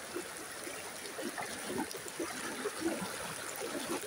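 Rainwater in the countryside trickles and babbles steadily, a soft continuous flow with small splashes, fairly quiet and close.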